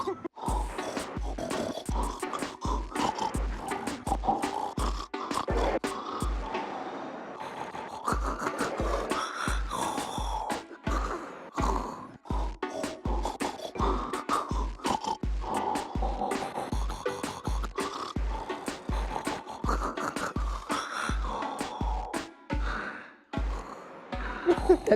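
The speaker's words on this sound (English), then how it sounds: "A wife who said her husband snores to the track." A man snores in time with a viral remix of a song, his rasping breaths riding a steady, regular beat at close range for the whole stretch, with no talking over it.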